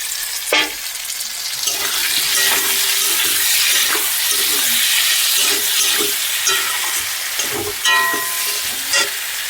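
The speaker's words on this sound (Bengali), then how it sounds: "এবার এর মধ্যে ভেজে রাখা বেগুন, আলুটা ভেজে দিতে হবে" Fried eggplant and potato pieces going into hot oil with spice paste in a pan, a steady close sizzle with occasional stirring scrapes and clinks throughout.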